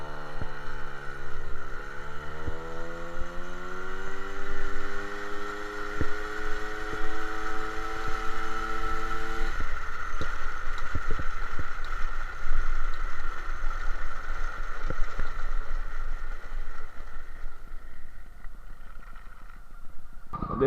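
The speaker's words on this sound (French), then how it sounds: "première accélération en charge, donc c'est avec moi dessus. Bonne surprise, ça accélère bien" MBK 51 Magnum moped with a 15 PHBG carburettor accelerating on a road test under rider load, its two-stroke engine note rising steadily in pitch, then settling into a loud, sustained buzz with some wind noise.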